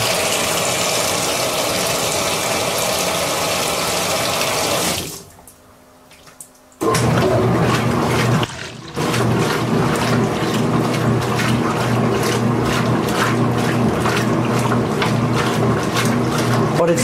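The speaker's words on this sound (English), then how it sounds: "Just sloshing the clothes around." A Milena washing machine sloshes clothes around with a steady churning, watery rush and motor hum, loud and close, briefly dropping away for a couple of seconds before resuming.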